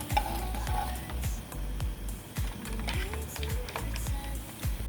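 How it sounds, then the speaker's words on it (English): Nigerian buns frying in hot oil, with a steady loud sizzle and bubbling throughout and repeated scraping clinks of a utensil stirring in the pot, close up and with no talking. "my buns is ready to come out of the oil"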